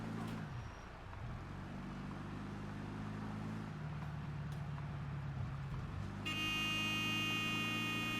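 A car driving in the video game Mafia II: a low engine drone shifts in pitch as the car accelerates and eases off, ending in a loud, sustained horn-like blare.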